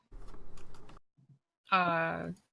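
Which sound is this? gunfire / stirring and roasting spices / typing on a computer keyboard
typing on a computer keyboard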